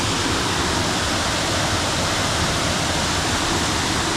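Steady, dense rush of a waterfall close by, a continuous broadband roar with no breaks and no voices.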